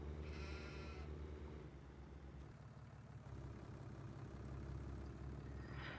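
Sheep bleating in a farming video game on a farm map, several drawn-out bleats up close at the start and again at the end, over a low steady engine-like idle hum.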